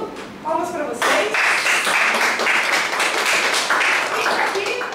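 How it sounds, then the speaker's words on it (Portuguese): Applause breaks out from an audience at a Portuguese-speaking gathering, a brief murmur giving way after about a second to dense, loud, sustained clapping with some voices mixed in until the end. "Então, primeiro de tudo, palmas para vocês."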